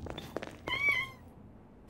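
A cat meows once, clear and close, in Half-Life 2 Episode Two, with a drawn-out cry after a few short thumps and knocks, then near silence.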